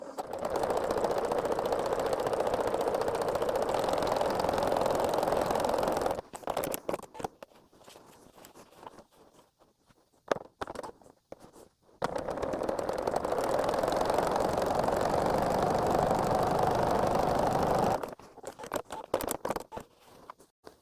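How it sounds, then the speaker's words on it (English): A sewing machine zigzag-stitches to overcast the seams of a small zippered bag, running in two long steady whirring bursts with a quiet pause between and a brief restart at the end. "So I'm overcasting both seams with that zigzag."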